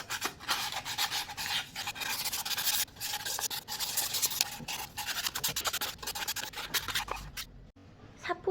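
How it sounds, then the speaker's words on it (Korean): Sandpaper rubbed by hand along the edges of a trivet made from recycled glass, a close, rhythmic rasping of repeated strokes with short pauses, stopping near the end. "조심히 사포질해서 매끄럽게 한번 네, 문질러 줄게요."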